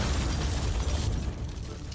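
Explosion in The Incredible Adventures of Van Helsing: Final Cut video game, a loud sustained rumbling blast with heavy low end that starts at once and slowly fades over two seconds, alone without talking.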